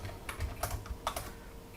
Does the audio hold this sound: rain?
no